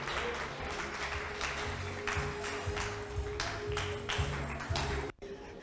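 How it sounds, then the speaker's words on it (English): Applause at a corporate excellence awards ceremony as a speaker is welcomed: scattered, moderate clapping from the audience over a low hum and background music, stopping abruptly near the end. "Guys, can we give her a warm round of applause as we welcome Dr."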